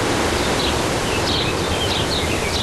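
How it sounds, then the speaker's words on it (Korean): Outdoor nature ambience: steady broadband wind-like wash with a faint trickle of flowing water in the distance and a few soft, high bird chirps scattered over the top, continuous and even. "바람 소리, 새 소리, 그리고 저 멀리서 들리는 시냇물 흐르는 소리도 있습니다"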